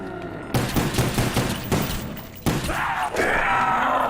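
Rapid gunfire from Black Ops 1 Zombies, a dense run of shots over a few seconds, followed by a heavier blast and a lingering game tone.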